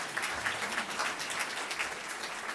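An audience at a Boston event on whether Africa can feed itself gives a round of applause, faint and distant, a soft steady patter of many hands.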